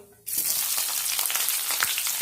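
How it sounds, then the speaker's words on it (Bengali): Sliced onions frying in hot mustard oil with a cinnamon stick, two cardamom pods and bay leaf, a steady loud sizzle that bursts in after a brief quiet start and crackles on without talk. "পেঁয়াজগুলো এক মিনিট ভালো করে ভেজে নেব"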